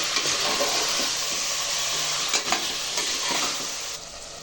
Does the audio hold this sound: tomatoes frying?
yes